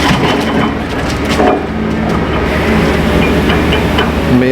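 A grab on a timber barge at an Arran pier handles logs, giving a loud, continuous grinding and crunching of wood over heavy machinery drone.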